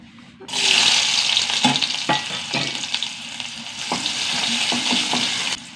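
Small shallots crackle and sizzle in hot coconut oil, a loud, steady hiss with a few sharper pops and stirring knocks, no voices.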